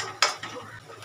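A lid goes onto a pot of bottle gourd halwa with one brief, sharp metallic clink, followed by faint scraping and settling noises.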